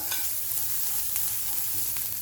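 A spoon stirs chopped coriander into spices frying in a pan, making a steady close sizzle with scraping strokes across the pan.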